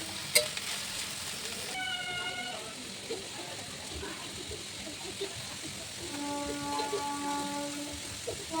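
Onion and spices fry in a pan for hotel-style aloo curry, giving a soft, steady sizzle with occasional stirring knocks. A few faint tonal sounds drift in the background.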